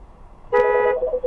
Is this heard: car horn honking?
yes